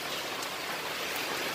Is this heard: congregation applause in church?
no